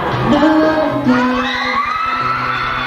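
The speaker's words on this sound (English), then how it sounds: "Crowd going wild." A crowd at a live performance whoops, shouts and cheers loudly, with a steady thumping beat running underneath the excited voices.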